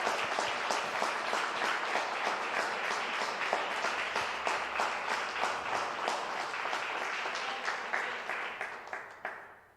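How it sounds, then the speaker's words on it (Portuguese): A church congregation applauds steadily at a Portuguese-language service, dense clapping holding for several seconds before thinning out and fading near the end. "aplauda o Senhor"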